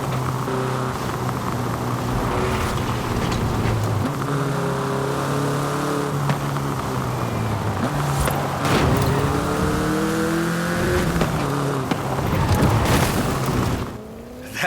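A Volkswagen Beetle (Vocho) in Forza Horizon 5 revs and shifts through several gears, its engine note rising in repeated climbing sweeps, loud and close, before cutting off abruptly near the end.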